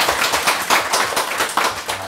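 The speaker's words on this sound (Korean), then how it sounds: "하나님께 영광의 박수 올려주십시오." A church congregation claps in praise after a testimony service, a loud, close, dense burst of many hands clapping with a rhythmic pulse throughout.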